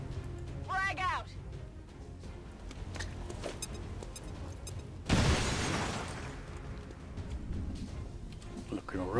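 A grenade blast in the turn-based tactics game XCOM 2 bursts out suddenly mid-clip as a loud, broad explosion with a crackling decay. Quieter game sounds and a voice come before it.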